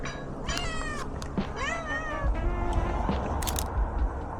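A cat meows repeatedly in drawn-out, wavering cries at close range on a street, with traffic noise rumbling underneath and no talking.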